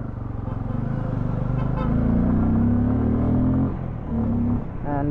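A Bajaj Pulsar F250 motorcycle ridden on hill roads, its engine droning steadily and rising in pitch as it revs through gears, with loud, close wind and road noise and a short horn-like toot near the end.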